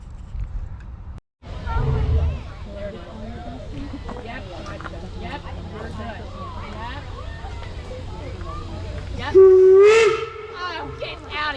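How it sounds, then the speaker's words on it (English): A steam engine pulls a winter holiday excursion train at Stone Gables Estate, with a rumbling, hissing ride and a loud, sustained whistle blast near the end, while people chatter in the background. "sit back and enjoy this ride on the steam engine train with us"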